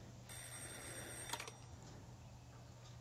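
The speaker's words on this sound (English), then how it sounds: "Oh, the phone's ringing." A telephone rings in the Batman: Arkham VR video game, a single electronic ring burst heard over a steady background hum.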